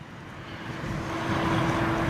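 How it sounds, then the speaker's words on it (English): A Kalitta Boeing 747 freighter at Heathrow gives off a steady, broad jet roar that grows slightly louder over a couple of seconds, with a faint tonal whine running through it. "It's Kalita's 747."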